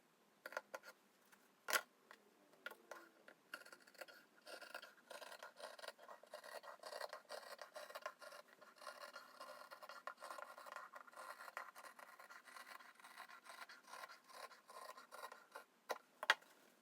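Shears cut through quilted jacket lining fabric, making a continuous, close, soft rasping and scratching sound with a few sharper snips at the start and end.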